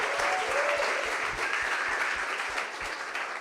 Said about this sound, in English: we want to give a big round of applause to Garrett for not only hosting this